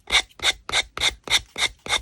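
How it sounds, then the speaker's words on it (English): Sandpaper rubs the napkin edges of a decoupage holiday ornament, giving seven steady, close rasping strokes in an even back-and-forth rhythm with short gaps between them. "it doesn't take much sanding, as you can see at the top here, for that to just peel away really neatly"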